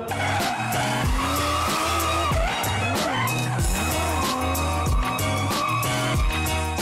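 Tyres squeal and skid continuously as an R33 Nissan Skyline drift car on Altenso tyres slides, loud and sustained over the engine's rising and falling note.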